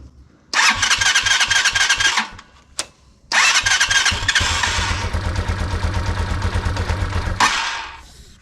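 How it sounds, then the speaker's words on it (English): A 2022 Bashan Brozz 250 Recon dual sport motorcycle with choke on cranks and catches twice, a brief sputtering burst, a pause, then a louder start that runs roughly for several seconds before cutting out, close by. "I'm gonna turn the choke on, I'm gonna turn the fuel on, and I'm gonna try to start this."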